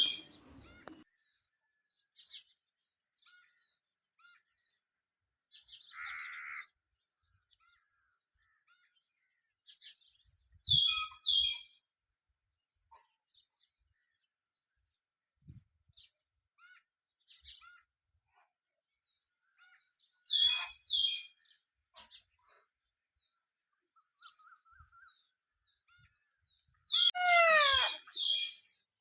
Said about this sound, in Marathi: चिमण्यांची पण खूप किलबिलाट असते.